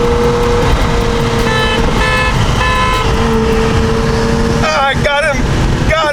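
BMW M4 with a Hellcat engine swap accelerating hard in a roll race, loud close engine roar with rising pitch through gears, excited voices talking over it near the end.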